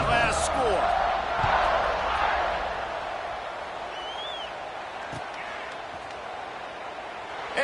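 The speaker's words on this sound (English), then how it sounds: "this crowd is buzzing after that last score" A stadium crowd buzzes at a college football game just before a kickoff, a broad roar of many voices with scattered whoops. It swells early and then settles, with an announcer talking over it.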